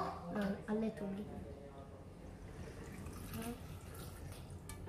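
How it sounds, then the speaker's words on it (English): Water is poured from a tap or jug onto strawberries in a blender jug for homemade popsicles, a soft trickling under a voice speaking over it. "Now we're gonna put a little bit of water."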